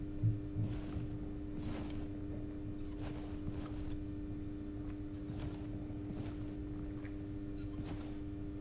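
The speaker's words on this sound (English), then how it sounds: "heartbeat sensor activated." A heartbeat sensor device in a video game gives a faint, steady electronic hum, broken by soft rhythmic pulses and occasional light clicks, with no voices.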